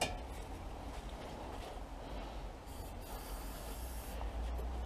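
An aerosol can hisses steadily onto the rusty rear shock bolts of a Rover P6 V8 during rear axle removal, a continuous spray sound at moderate level with no talking.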